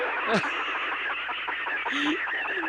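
Chickens cluck and squawk close by, short repeated calls in an uneven run, with a busy background and no clear speech.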